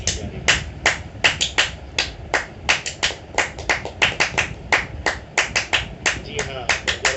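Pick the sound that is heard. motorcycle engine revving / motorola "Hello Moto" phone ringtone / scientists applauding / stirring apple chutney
scientists applauding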